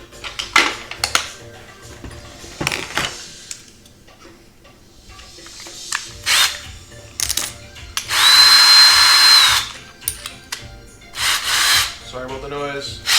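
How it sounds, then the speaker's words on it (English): A power drill bores through the plastic of a Rock 'em Sock 'em Robots toy, with short whirring bursts and one sustained loud high-pitched run near the middle, alongside clicks and handling taps, with a voice talking at times. "Find a drill bit that's about the same size as the head of that screw and"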